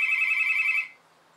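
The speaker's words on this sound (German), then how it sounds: "Das Telefon klingelt." A telephone rings indoors, a single electronic trill holding steady for most of a second before it cuts off, leaving near silence.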